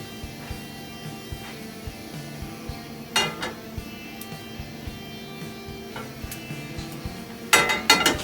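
Cumin seeds popping in a hot cooking pan give scattered small ticks and crackles, with a few louder clusters of pops over a steady low hiss.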